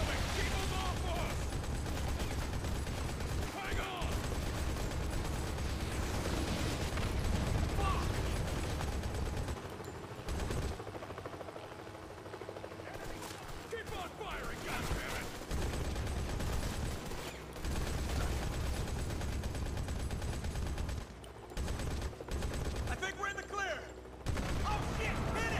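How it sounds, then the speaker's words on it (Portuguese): Sustained gunfire from the mobile shooter game Modern Combat 5, with dense bursts of automatic and heavy fire, explosions and chopper noise rolling loudly for the whole stretch, someone talking over it at times. "é tiro de tudo quanto é lado"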